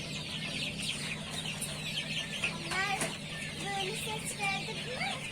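Chickens clucking and chicks over 20 days old peeping nearby during vaccination, overlapping chirps and clucks in an irregular stream over a low background hum.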